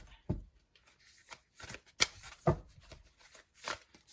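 Oracle reading cards being shuffled by hand, a series of close, crisp riffling and slapping bursts in uneven rhythm over a quiet background, with no talk.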